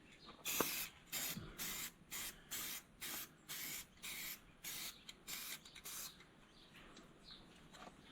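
Short bursts of aerosol spray paint on a part of an Allis-Chalmers D17 diesel tractor, about a dozen close, loud hissing blasts in a steady on-off rhythm with brief pauses between.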